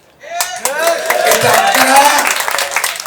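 An audience breaks into clapping at a political speech, a dense burst of applause rising quickly and holding steady, mixed with crowd voices.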